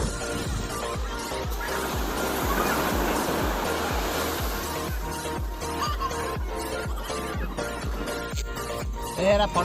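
Sea waves at Chandrabhaga beach surge and crash continuously, a loud broad roar of surf with rhythmic low thumps from breaking water, and voices faintly mixed in.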